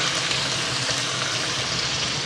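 Fenugreek leaves and potato sautéing in a hot kadhai, a steady close sizzle and hiss with no break and no speech.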